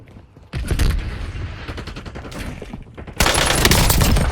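Loud, close automatic gunfire in the video game Warzone, with rapid sustained bursts, a brief pause and then an even heavier burst of shots.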